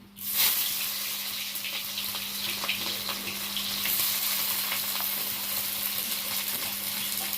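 Chopped onion frying in a large kadai for a crab curry, giving a steady, fairly loud broadband sizzle that runs unbroken through the whole stretch, with a faint low hum beneath and no talking.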